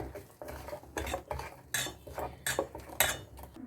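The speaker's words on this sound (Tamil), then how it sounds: "போட்டுட்டு அதுக்குண்டான கரண்டியை நல்லா கலந்துடலாம்" A ladle stirs turmeric powder into a pot of ginger, with repeated metallic clinks and scrapes against the vessel in an uneven rhythm, close and clear with no talking.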